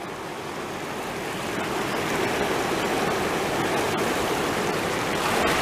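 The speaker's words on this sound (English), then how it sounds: "This is the highest I have ever seen this river." A river at very high water rushes by as a steady, dense roar that stays loud and even throughout, with no voices over it.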